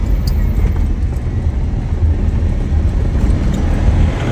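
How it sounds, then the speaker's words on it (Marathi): Vehicle driving slowly along a slippery road on a hill outing, a steady loud engine and tyre rumble with road noise throughout, heard from inside or close by. "घसारते त्यामुळे गाडी स्लो घे."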